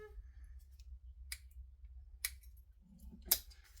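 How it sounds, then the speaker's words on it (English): Scissors snip through layered vinyl and fabric in a sewing project, three crisp isolated cuts spaced about a second apart, faint and close in a quiet room. "vinyl cutting scissors, or just any scissors that are going to cut through your layers, really"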